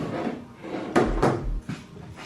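Rubber weather stripping is pulled off the door of a 1998 Mustang SN95, giving a few close, sharp rips and thumps with brief scraping between them and no talking.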